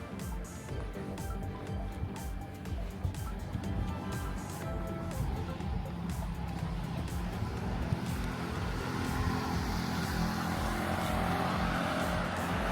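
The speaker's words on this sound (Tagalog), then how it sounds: "Sasakyan." A car drives along a quiet night street in Shougang Park, Beijing, its engine and tire noise building steadily from faint to nearer over several seconds, with faint clicks scattered through.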